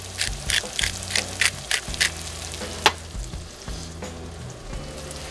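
Bacon nearly done frying in a pan with shallots and green onion wilting in, a steady close sizzle broken by soft stirring clinks and scrapes, with no voices.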